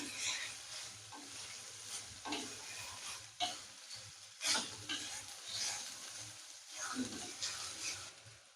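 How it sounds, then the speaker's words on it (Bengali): Potato pieces fry lightly in a pan for a chow mein roll. A soft, quiet sizzle runs steadily under occasional scraping stirs and faint background voices. "আলুগুলো হালকা একটু ভেজে নেব।"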